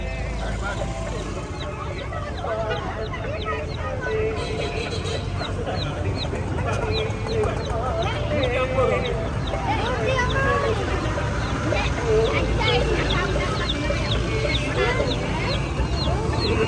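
Many small chicken chicks cheep in quick, high-pitched bursts throughout, mixed with clucking fowl and people chatting nearby in a busy, noisy setting at a market in Chunnakam, Jaffna.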